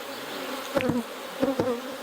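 Honey bees buzz around an open hive with brood and honey frames, a soft steady hum with a few louder passes as bees fly close.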